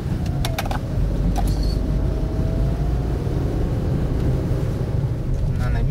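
A car pulls away and accelerates after stopping for pedestrians at a crossing, heard from inside as a continuous engine and road rumble at moderate loudness.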